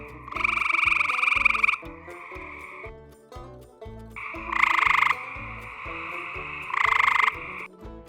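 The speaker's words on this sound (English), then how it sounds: "In the tree frogs that we study, males have a trade-off between the duration and rate of calls they make." Male tree frogs give advertisement calls, loud nasal pulsed croaks in long and short bursts with pauses between, standing alone and close.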